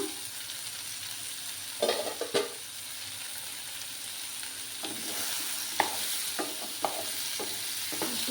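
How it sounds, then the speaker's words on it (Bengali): A spoon stirs dry fish, potato and brinjal in a sizzling pan, with a quiet steady fry under a few sharp scrapes and clinks against the metal, close and without talk. "নাড়াচাড়া করবো।"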